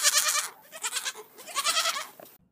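A baby goat bleats in a few wavering, quavering cries close by, heard alone with no other sounds over about two seconds.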